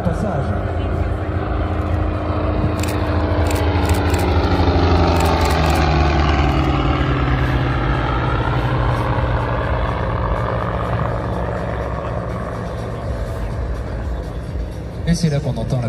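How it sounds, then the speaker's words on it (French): Eighteen-cylinder twin-row radial aircraft engine passing at an air show, a loud deep drone that swells and shifts pitch as the plane goes by, with an announcer speaking over it. "c'est là qu'on entend la puissance toute particulière de ce moteur en double étoile de 18 cylindres"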